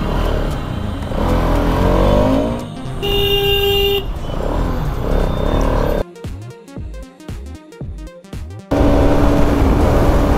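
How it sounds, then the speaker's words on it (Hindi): Heavy road traffic heard from a ride alongside a Yamaha V4 motorcycle, with a dense, loud wash of engines, brief horn toots and revving, and a choppier, gapped stretch midway before the steady roar returns. "बहुत ट्रैफिक है।"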